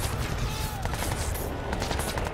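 Dense rapid gunfire rattles on without pause in the Crysis video game, loud and continuous like a sustained firefight.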